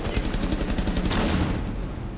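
Gunfire in the video game Rainbow Six Siege, a rapid burst of close, loud shots in quick succession that fades into a short echoing tail.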